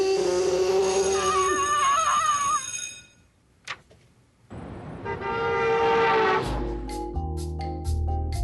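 A Cirque du Soleil Quidam performer uses only their voice to imitate a T-Rex roar: loud, bellowing, horn-like wails, then a brief near-silent pause, then a second surge of roaring and blaring tones.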